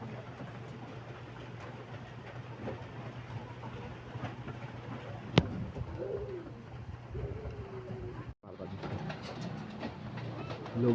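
Pigeons coo softly outdoors under overcast weather against a steady low background hum, with a sharp click partway through and a brief dropout near the end.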